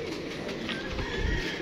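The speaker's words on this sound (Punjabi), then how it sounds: "ਇਸ ਕਬੂਤਰ ਦਾ ਸ਼ੌਕ ਕਰੋ।" A pigeon coos in low, rolling murmurs close by, continuous over a steady background hum with no talk.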